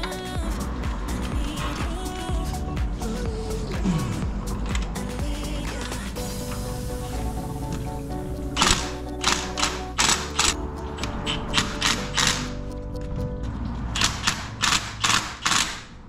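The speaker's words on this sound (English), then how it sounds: "I'm just giving little zaps of the impact driver using this universal joint fitting here" Short repeated bursts of an impact driver fitted with a universal joint, working on the exhaust manifold of a first-generation Cummins; sharp rattling hammering pulses in clusters, close and fairly loud over a steady mechanical background.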